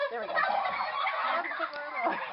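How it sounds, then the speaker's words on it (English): Several turkeys gobbling and chattering close by on a farm, their calls overlapping in a busy, warbling chorus. "now these are all the turkeys over here"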